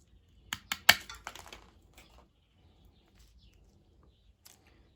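Cutters snip through a bicycle gear shift cable in a quick cluster of sharp, close clicks, followed by a few faint scattered ticks in a quiet room.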